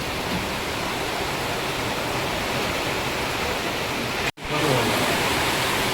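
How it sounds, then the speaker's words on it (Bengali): A steady, dense roar of heavy rain pouring down, loud and continuous, broken once by a brief cut in the sound. "দেখতে দেখতে খুব জোর বৃষ্টি চলে এসেছে।"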